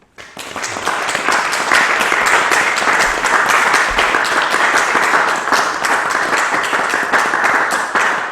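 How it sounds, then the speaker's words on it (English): Audience applause before a talk at a Buddhist gathering, dense clapping that swells in quickly and holds steady and loud for several seconds, with a brief spoken word at the start. "So a round of applause"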